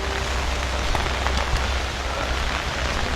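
Steady rain falls on outdoor surfaces, a dense, even patter that holds at a constant level throughout with no voices.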